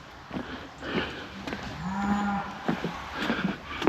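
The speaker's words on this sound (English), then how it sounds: "You can hear the cow." A cow moos in a field beside a countryside footpath and small bridge in Lancashire, one drawn-out low call from fairly close amid quiet outdoor ambience, with no talking.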